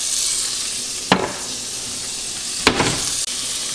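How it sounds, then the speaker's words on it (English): Eggs frying in a pan give a steady, close hiss of sizzling throughout, broken twice by brief louder crackling bursts. "once it starts to sizzle, you see the smoke flaring up."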